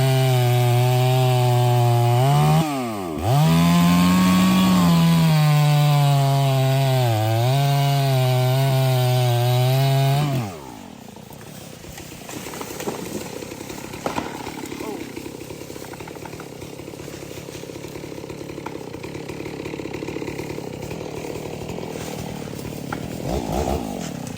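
Stihl-style 46 chainsaw double-cutting a sweet gum tree: loud steady engine whine for about ten seconds with pitch dips as it bogs, then dropping to a lower idle rumble with crackling wood.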